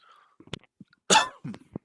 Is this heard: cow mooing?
no